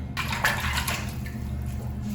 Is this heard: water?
yes